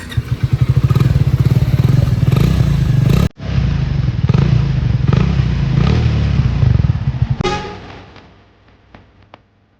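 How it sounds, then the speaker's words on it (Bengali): A Triumph 350cc motorcycle starts up and its single engine thumps steadily at idle, cuts briefly, then runs again before shutting down into a few faint ticks and clicks, close and loud with no talk. "তো তোমাদের এখন দেখাবো এই বাইকটার সাউন্ডটা কেমন।"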